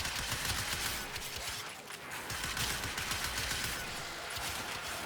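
Cyanex alternate fire in the game Warframe, a dense continuous crackling barrage of gunshots that stays loud and steady almost without a break, with only a slight dip partway through.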